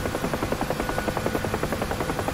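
A UH-1H Huey helicopter in DCS flies level at about 90 knots, its rotor beating in a fast, even thump over a constant engine drone, loud and close, with no talking.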